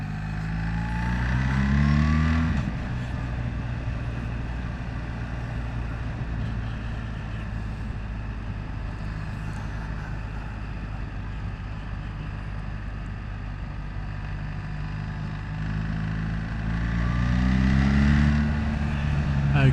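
A BMW GS Adventure motorcycle with a boxer engine idles with a steady low rumble, and a couple of throttle blips swell up near the start and again near the end, with wind noise over the microphone throughout.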